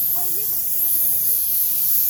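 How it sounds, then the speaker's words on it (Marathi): Pressure cooker releasing steam from its whistle at night, a loud continuous high hiss filling the whole brief moment, with faint voices murmuring underneath. "आता कुकर काढायचं बघा शिट्टी येत आहे"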